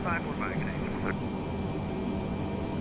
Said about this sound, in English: the auto throttle's bringing the power back in